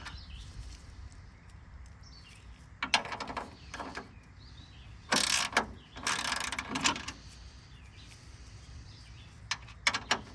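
A ratchet working bolts off a homemade bracket on a 1966 Chrysler Town & Country, heard as several bursts of rapid clicking spread across the clip with quiet gaps between them and no speech.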